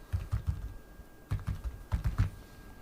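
Typing on a Logitech MK295 silent wireless keyboard, heard as quiet, close clusters of soft key taps in three short bursts with pauses between them.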